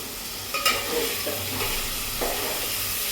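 Ingredients for masala rice being dry-roasted and stirred in a pan, giving a steady soft sizzle with a few scraping clinks of a spoon against the metal.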